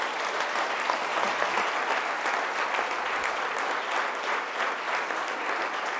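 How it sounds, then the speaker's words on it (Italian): Sustained applause from an audience at a televised event, greeting Don Mario of the Chiavari diocese, a broad dense roar of many hands clapping steadily throughout with no voices over it. "lo salutiamo con un bel applauso per Don Mario"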